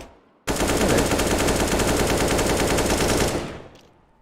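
Rapid automatic gunfire in a competitive video game match, a loud, close burst of about three seconds that cuts in sharply and then trails off.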